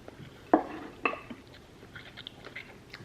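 Kimchi crunches in quiet, close chewing during a Korean army base stew meal, with two distinct crisp bites followed by softer, irregular mastication.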